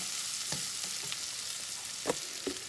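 Browned ingredients sizzle steadily in a pan while cooking Dominican pasta, with a few sharp scrape-like stirring knocks cutting through the constant frying hiss.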